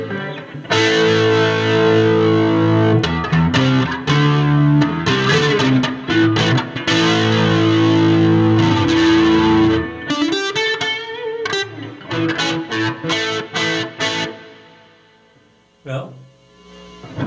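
Electric guitar played through a distortion effect with a touch of reverb and chorus, thick sustained chords and riffs ringing loud and close, then sparser plucked notes trailing off near the end.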